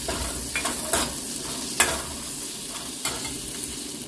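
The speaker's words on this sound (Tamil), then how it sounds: "இப்போ கருவேப்பிலை ஆட் பண்ணுறேன். 2 நட்டு கருவேப்பிலை ஆட் பண்ணியிருக்கிறேன். நல்லா மிக்ஸ் பண்ணலாம்." Curry leaves fry in hot oil in a pan, crackling and sizzling steadily with a few sharp pops while a utensil stirs them, close up with no speech.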